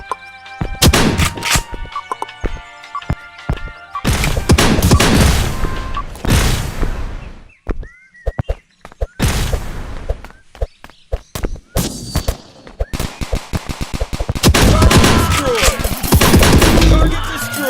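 Shotgun fire in the multiplayer video game Dude Theft Wars: loud, booming blasts arrive in dense clusters separated by short gaps, with heavy overlapping volleys and no one speaking over them.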